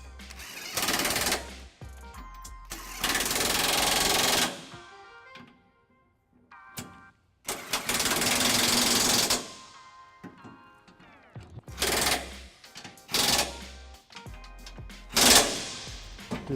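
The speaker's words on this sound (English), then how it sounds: "take our impact and 19 millimeter socket with a 5-inch extension and just snug them up" Impact wrench with a 19 mm socket and extension snugging up trailer hitch bolts on a 2010 Nissan Frontier: several loud, close bursts of rattling hammering, each lasting one to two seconds, separated by short pauses.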